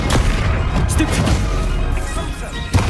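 A Stupefy stunning spell cast in the Hogwarts Legacy video game, heard as a dense, loud burst of magical impacts and booms amid a continuous rumble of combat effects, with a sharp hit near the end.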